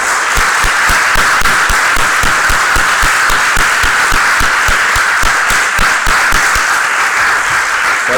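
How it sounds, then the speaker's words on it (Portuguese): Church congregation applauding during an evening worship service, loud, dense clapping with a strong rhythmic pulse as many hands beat roughly in time, continuous and close. "Vamos aplaudir mais forte para Jesus,"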